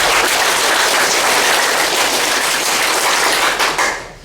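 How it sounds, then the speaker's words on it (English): Audience clapping fast with large, full claps, a loud dense wash of many hands at a quick steady rate that fades out near the end. "I want everyone to do much larger claps, but maintaining that same clapping rate"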